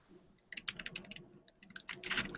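Someone types on a computer keyboard, with rapid uneven bursts of light key clicks that are quiet and close and carry no speech.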